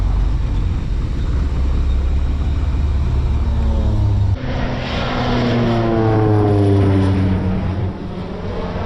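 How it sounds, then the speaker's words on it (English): A Cessna propeller plane spraying fungicide over a cornfield drones loudly and steadily overhead, its engine pitch sliding as it passes close by. "Oh, here goes our airplane. Here he comes."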